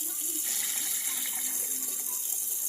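Measured water, eight cups, is poured in a continuous steady stream to make a pickling brine, a soft even splashing gush without breaks.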